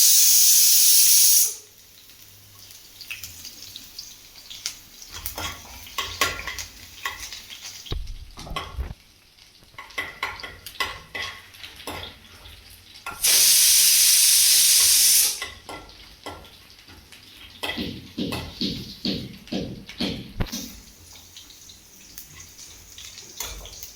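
Ginger and garlic sautéing in a hot pan for beef dry fry, a steady sizzle with bursts of loud hissing steam and intermittent stirring scrapes, close up and alone.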